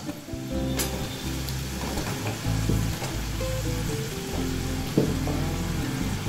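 Peraki snacks frying in hot oil give a steady, close sizzle with soft bubbling that runs throughout, with occasional light clinks and stirring noises and no talking.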